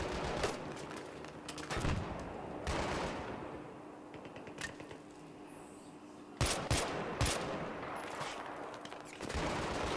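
Bursts of gunfire in Battlefield 3's co-op mission Operation Exodus crack out in irregular volleys, some rapid like automatic fire, over a steady background hum.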